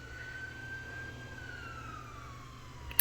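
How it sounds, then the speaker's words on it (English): A police car siren wails steadily at moderate distance, its pitch gliding slowly downward as it passes, over a low traffic rumble, with a brief knock at the very end. "Sorry about the police car"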